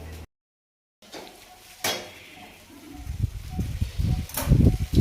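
Metal cooking pots rattling and wobbling, a loose clattering that starts faintly and builds into louder, uneven metallic knocks and clinks near the end.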